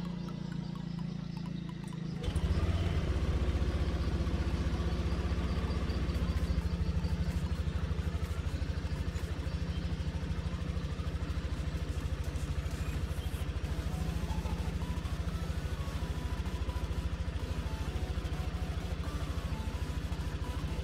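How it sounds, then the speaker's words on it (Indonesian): A Yamaha New NMAX scooter engine idles close by with a steady, even hum. It gets noticeably louder a couple of seconds in, then runs unchanged to the end with no one talking. "Sebelum mengganti oli mesin, kita hidupkan dulu mesin motor beberapa saat."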